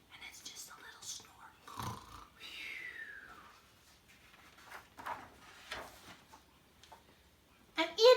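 During a read-aloud of a children's bear story, people imitate snoring with soft, breathy, whispery snores spread across the span, ending in a louder burst.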